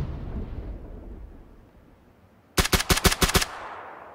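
A rapid burst of about six loud gunshots from a third-person video game goes off partway through, after a stretch of quiet low rumble, with a soft ambient tail following the volley.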